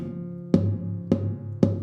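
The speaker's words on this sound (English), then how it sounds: "a nice effect which you can add in your tambora, is if you touch the bridge with your E finger while you play tambora" Three strums on a guitar in the Argentine folk tambora style, with a finger touching the bridge so each strike gives a muted, percussive double sound, close and evenly spaced over a low ringing chord.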